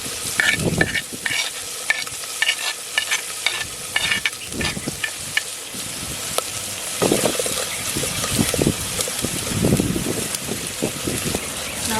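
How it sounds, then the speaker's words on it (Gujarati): Green chillies, ginger and green garlic hit hot oil in a village kitchen pan, crackling and sizzling continuously, with repeated scraping stirs of a utensil breaking through the frying at close range. "તેલ તો ગરમ થઈ ગયું છે. ત્યાં લીલા મરચાં, આદુ અને લસણ લીલું એ બધું નાખી દઈ."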